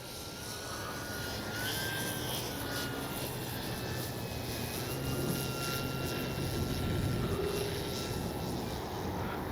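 A Hangar 9 J-3 Cub RC plane with a 10cc engine drones steadily overhead, its buzzing propeller note holding constant and swelling slightly as it passes, with no voices.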